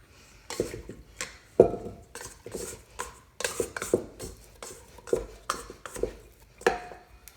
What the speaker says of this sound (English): Let me move the KitchenAid a little bit.